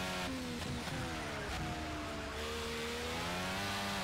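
Dallara DW12 IndyCar racing in Project Cars at Road America, engine howling flat out at high revs, steady and loud throughout with rising and shifting harmonic pitch, no talk.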